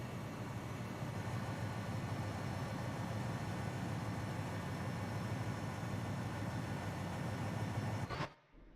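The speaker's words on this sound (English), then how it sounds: "I couldn't hear you over the train noise." Steady, heavy diesel drone from a GP20 locomotive in Train Simulator 2019 on the Donner route, a loud continuous rumble with a constant hum that runs for about eight seconds, then cuts off abruptly.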